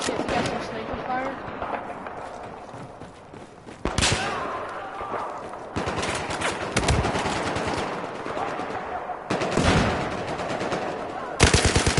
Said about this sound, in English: we got some sniper fire